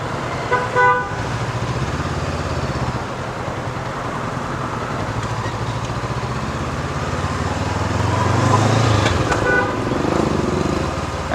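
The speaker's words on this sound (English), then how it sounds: "you're going to see the general mayhem that is Hanoi traffic." Hanoi street traffic full of motorbikes and cars, a dense engine rumble throughout with several short horn toots near the start and end, loud and close, no talking.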